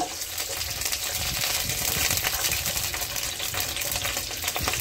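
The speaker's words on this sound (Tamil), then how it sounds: "வெந்தயம், இதை லைட்டா ஃப்ரை பண்ணிக்கோங்க" Fenugreek seeds and green chilies lightly frying in oil for a shark fish gravy, a soft steady sizzle with faint stirring, close up and without speech.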